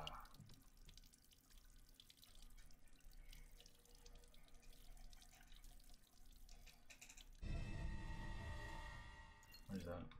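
A running water tap inside the video game Resident Evil Village: quieter in-game ambience with a voice gives way to a loud, steady rush of water from the faucet near the end, briefly cutting off and resuming.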